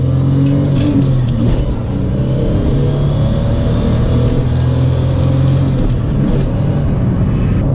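An AU Ford Falcon accelerates hard from a standing start at traffic lights, its engine loud and close, with a rising rev note that holds steady through the gear pull and no voices.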